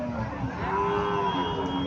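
A cow at Barura's Chandimura cattle market gives one long, close, steady moo over a constant background murmur.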